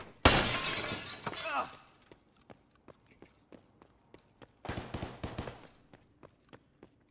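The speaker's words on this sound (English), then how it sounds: "I don't even know if the ammo's gonna pen the glass in server." Gunfire shatters glass in Escape From Tarkov: two loud, close bursts of crashing, tinkling glass, each followed by a run of sharp, evenly spaced footstep-like thumps.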